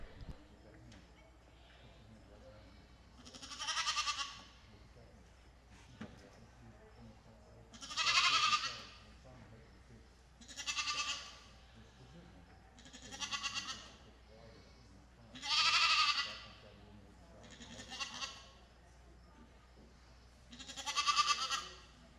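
Pygmy goat wethers bleat in a show barn at a county junior fair goat show, with about seven loud, drawn-out calls recurring every couple of seconds over steady background murmur and announcer talk.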